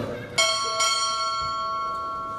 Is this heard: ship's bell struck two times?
yes